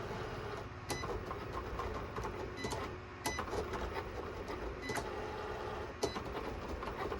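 A cutting machine cuts permanent vinyl for a tumbler, giving a steady low mechanical whir with faint periodic clicks and ticks as the blade carriage moves, fairly quiet and close.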